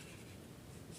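Chalk or marker scratching steadily on a board in a physics classroom, a soft continuous writing rub lasting about a second with no voices.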